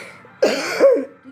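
A single close, harsh cough with some throat clearing in a home, starting abruptly and trailing into a second rougher burst before fading.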